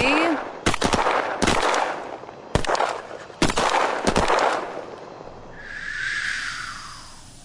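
Gunfire in a firefight: several sharp, loud bursts of rapid shots in separate clusters, close and punchy, followed by a fading whooshing tail once the shooting stops.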